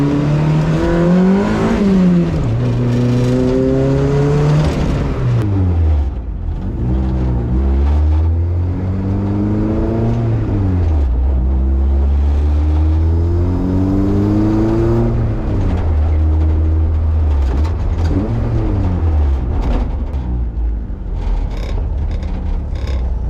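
A Honda CRX engine heard loudly from inside the cabin, droning steadily and rising and falling in pitch as it revs up and settles repeatedly, filling the whole stretch with no talk.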